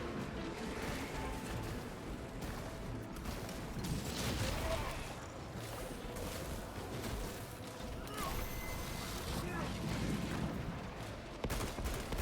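Gun strike gunfire from the Assault build in the video game Space Marine 2, rapid shots and crashing impacts layered over a constant, busy combat din for the whole stretch, fairly quiet overall.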